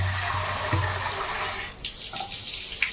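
Water pours and splashes steadily into a cooking pot for chana masala curry, close and moderately quiet, with a short pause and a few trickles near the end.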